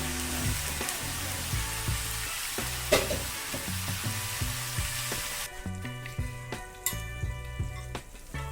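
Brinjal frying in a pan, stirred for brinjal-and-egg bhaji, giving a soft close sizzle with scattered utensil knocks and scrapes, fairly quiet and without speech.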